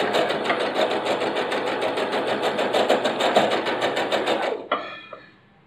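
Sewing machine stitching a blouse, a fast steady rhythmic whir of the needle running close and loud for several seconds before it stops with a clunk and fades.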